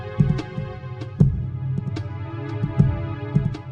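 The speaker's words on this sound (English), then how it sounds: "you can even hear that Jabu's heartbeat is integrated into the music track" Jabu-Jabu's deliberately irregular, offbeat heartbeat from Ocarina of Time, woven into droning dungeon music as deep low thumps at uneven intervals over a steady sustained hum.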